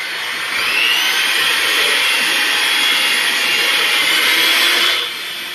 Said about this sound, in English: I whip the heavy whipping cream because I'm using a hand mixer